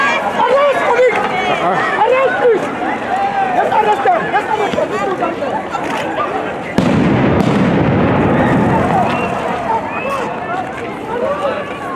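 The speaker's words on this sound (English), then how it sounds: "they quickly dispersed the group with stun grenades and rubber bullets" Loud bangs of police stun grenades go off at a university student protest in South Africa in 2016, over a noisy crowd with shouting, chatter and running, one sharp blast standing out midway.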